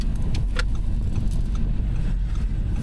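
A 2023 Audi R8 V10 Spyder with the roof down, on a track: a low, steady engine rumble with a few light clicks and rattles, fairly subdued throughout.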